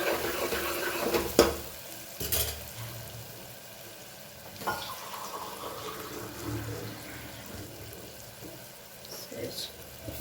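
Water is poured into a cooking pot of spiced masala, soft splashing and trickling bursts at low level, with a few sharper clinks and quiet kitchen movement between them.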